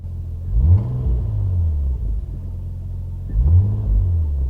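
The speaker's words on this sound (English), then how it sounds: "Let's see if we can give it a quick rev." A rear-wheel-drive Nissan Skyline R33 with a straight-six engine idles with a deep rumble, then gets two quick throttle blips that swell and fall back, close up and loud.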